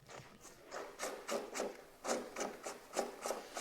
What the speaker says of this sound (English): Let's go unscrew the cap.